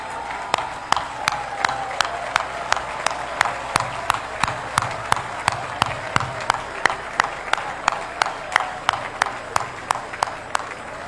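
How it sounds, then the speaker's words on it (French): An audience stands and applauds at the inauguration of a new headquarters, clapping in sharp, evenly spaced unison beats about two or three per second, steady and close throughout. "je vais vous prier une fois de plus de vous lever et d'applaudir"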